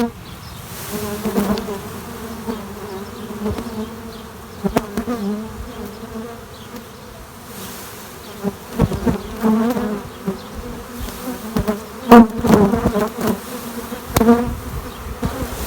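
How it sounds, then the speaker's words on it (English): A dense, steady hum of a honey bee swarm fills the air, swelling and fading as individual bees pass close by. "we used the brush to get the bees into the hive"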